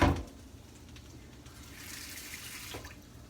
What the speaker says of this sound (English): So I'm going to add a little bit of water to this